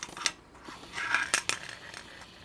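Close, scratchy rasping of a metal file scraping an SKS 30-round ProMag magazine, irregular strokes with small clicks and knocks, fairly quiet.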